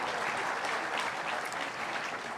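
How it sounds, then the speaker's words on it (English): Crowd at an outdoor monument unveiling ceremony applauds, a dense, even wash of clapping held steady throughout. "Another big round of applause, please."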